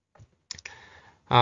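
A couple of quick, faint computer mouse clicks while working in Microsoft Word, followed by a person starting to speak.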